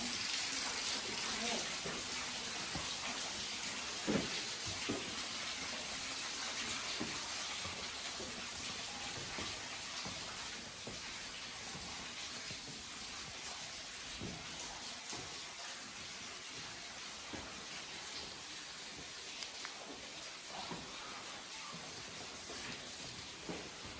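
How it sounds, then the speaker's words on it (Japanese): Water runs and splashes inside a rocky cave hollow at the Hasama Fudō site, making a continuous hissing rush with a strong echo and occasional louder drips, while faint voices sound now and then beneath it. "水音がすごい反響して"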